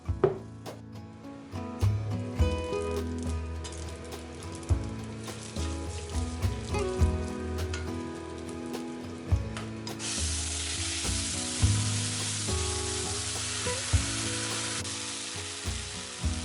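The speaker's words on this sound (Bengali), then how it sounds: "আমি একটা মাঝারি সাইজের পেঁয়াজ বেটে রেখেছি সেটাকে দিয়ে দেবো" Cumin, cardamom, cinnamon, cloves and onion paste sizzle in hot oil for a paneer masala, a loud, sustained crackling hiss punctuated by repeated rhythmic knocks and scrapes of stirring.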